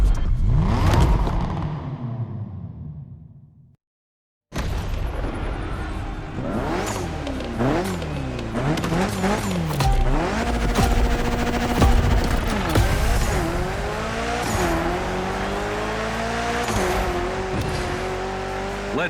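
A built Evo 9 in a gymkhana run in The Crew Motorfest: the engine revs hard and close, pitch sweeping up and down through gear changes and throttle blips, with tire squeals, after a brief silent gap.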